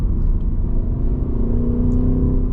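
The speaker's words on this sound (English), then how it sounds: "You just hear the engine, no exhaust." A 2026 Ford Mustang GT Premium engine idles in quiet exhaust mode with a steady low rumble and whir, no exhaust note audible, close by and continuous.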